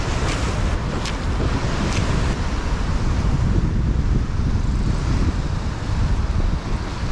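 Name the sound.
rough ocean swell waves crashing at a cave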